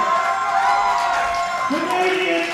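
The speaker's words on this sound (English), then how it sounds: "How about a big round of applause for Quay Canadian" At a powerlifting meet, a deadlift national attempt draws a loud, continuous roar of crowd applause and cheering, with whoops and voices blended into the dense noise.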